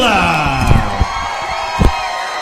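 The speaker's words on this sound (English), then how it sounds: "The crowd is on their feet, Casey Oxendine, for Hannah Rokala." Fight fans at a USFFC event rise to their feet cheering for fighter Hannah Rokala, a loud close swell of shouts and whoops with a few sharp bursts over the steady crowd roar.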